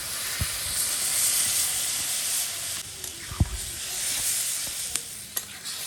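Water poured into a pan of frying vegetable curry sets off a steady, bright sizzle and hiss, with a few soft clinks of a utensil stirring close by.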